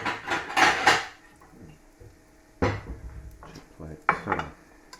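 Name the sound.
plate handled among dishes and cutlery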